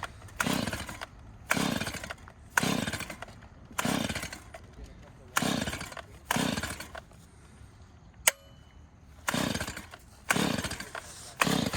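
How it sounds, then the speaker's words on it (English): Small gasoline engine being pull-started again and again, about ten quick recoil pulls in a steady rhythm, each a loud rasping burst with short gaps between, close by. "Usually gives it a few pulls to get it going."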